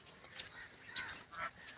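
Ducks on a cattle farm give a few faint, scattered honking quacks against steady background noise, with no talk.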